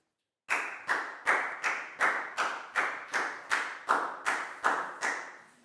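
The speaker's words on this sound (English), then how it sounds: "Big round of applause for Dan" A class of pupils gives a classmate a round of applause: about a dozen sharp, evenly spaced group claps in a steady rhythm, close and fairly loud, with no talking.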